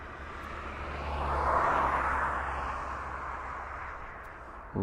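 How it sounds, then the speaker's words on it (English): A West Atlantic Boeing 737 arriving from Jersey passes as a broad jet roar that swells and then slowly fades, moderately distant, with no talk. "That's a Boeing 737, the West Atlantic, coming from Jersey"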